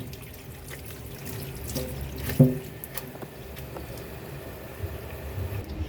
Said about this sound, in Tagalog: Tapos itong ating pechay. Ugasan na natin.